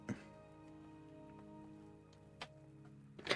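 Rain patters in the video game Wuthering Waves, a soft steady fall under a faint sustained musical tone, with a few sharper drips and taps standing out.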